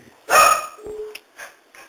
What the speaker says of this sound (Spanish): Ese es mi perro